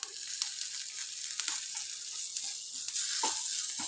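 Mustard seeds, urad dal, asafoetida and curry leaves sizzle in sesame oil for a cluster beans thuvaiyal tempering, giving a bright, steady hiss broken by small pops and crackles.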